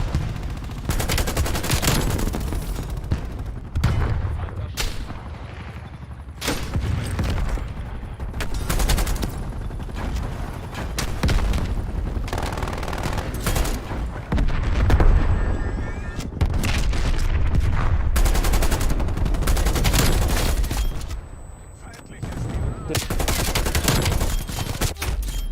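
Dense gunfire from the video game Call of Duty Cold War / Warzone: rapid bursts of shots and booms cut in and out across the whole stretch, loud and close with brief gaps between volleys.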